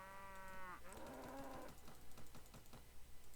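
Cows lowing in Mount and Blade: Warband, a long drawn-out moo followed by a second deeper one, then small clicking game sounds, clear and fairly quiet with no talk.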